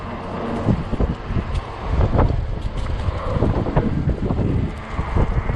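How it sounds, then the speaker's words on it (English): Strong 30 mph wind gusts buffet the microphone of a 20-inch 48V fat-tire Ecotric e-bike ride at 80°F, a loud, uneven rumbling roar that swells and fades in close, rough bursts with no talking. "What I'm doing, I'm running against the wind."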